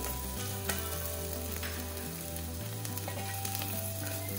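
Crushed shallots frying in oil after mustard seeds for a Kerala chana dal and Malabar spinach stir fry, a continuous close sizzle with faint occasional stirring, under background music.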